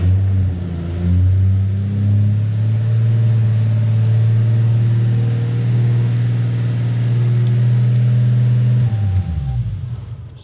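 A Toyota MK4 Supra engine idles slightly high after a fuel pump upgrade, a loud, steady, deep hum heard up close that drops away near the end.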